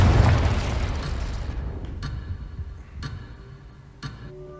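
A Confringo spell explosion in the Hogwarts Legacy video game erupts as one loud, broad blast that rolls off into a decaying rumble, with a few sharp ticking clicks following in the tail.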